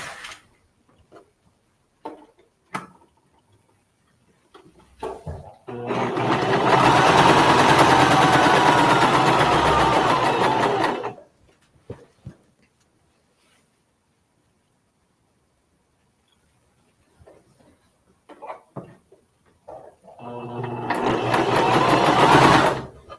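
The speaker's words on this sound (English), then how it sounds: "now I'm just going to sew them together with 1/4 of an inch" Quilt pieces are chain pieced on a sewing machine in two runs of fast, steady stitching, each lasting several seconds with a quiet pause between them and a few light clicks and handling noises.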